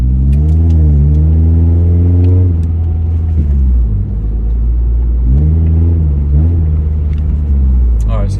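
A 2011+ Scion tC revs up on a road test, its engine pitch sweeping upward twice through the gears with a drop and pause between, loud and close inside the cabin.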